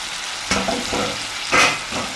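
Green chillies and tomato pieces hit a hot pan for a dish of ivy gourd and tomato curry, giving a steady sizzle with two louder bursts of hissing spatter as pieces drop in, no voices.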